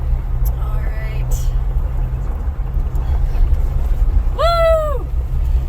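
A car pulls away in first gear, the engine a loud, steady low rumble close up, with a faint whooping squeal rising and falling near the end and a voice talking briefly.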